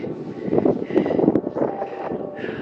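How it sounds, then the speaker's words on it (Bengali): Strong wind on a high mountain trek near Pangarchulla in snow, a steady rough gust buffeting the microphone at close range, with no clear voices. "হাওয়া চলছে খুব"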